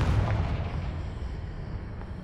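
A Confringo blast spell going off in the Hogwarts Legacy video game, a loud booming explosion that hits at once and then fades into a long rumbling roar, with no voices over it.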